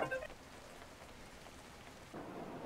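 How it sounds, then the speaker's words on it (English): Steady rain falls in the video game The Abandoned Planet, a soft continuous wash that swells slightly near the end, with a brief tonal blip at the start. "Maybe we have to get the rain to stop."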